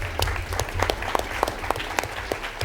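An audience at a school board meeting claps steadily, with distinct individual claps standing out over a dense round of applause from the room.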